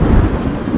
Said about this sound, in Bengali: বাইরে তখনও বৃষ্টি পড়ছে, তাতে মাঝে মাঝে বিদ্যুৎ চমকাচ্ছে